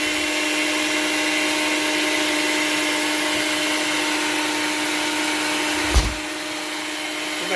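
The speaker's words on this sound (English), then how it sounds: "turn it on. Let it grind. See how it's turned it to a powder." Electric grinder whirring steadily as it grinds dried hot peppers into powder, a loud continuous motor hum with a brief bump near the end, no talking.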